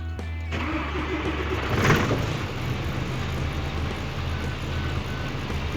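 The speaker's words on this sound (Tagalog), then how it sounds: "Yan, bali umaandar na yung truck." A truck engine idles steadily at close range with a low, even rumble, a short clatter at the start and a slight swell near two seconds, heard during an oil cooler replacement on a vehicle with oil and water mixing.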